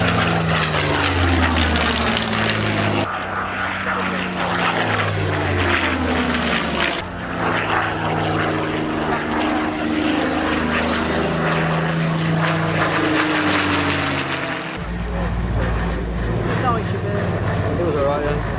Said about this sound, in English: And so beautifully and smoothly and elegantly flown as ever by John Romain